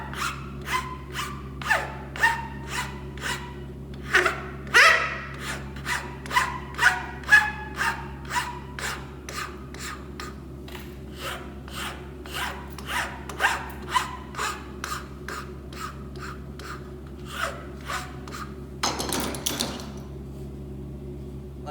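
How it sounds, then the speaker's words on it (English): A hand file rasps across the bottom corners of a wooden tulip cutout in steady, evenly spaced back-and-forth strokes, close and fairly loud, over a constant low hum. "See how I'm working the file nice and square around this whole thing."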